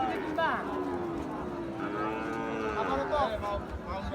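Cattle low and moo repeatedly at a busy livestock market where a bull is being bought and led away, the calls loud and close amid crowd chatter and people talking throughout.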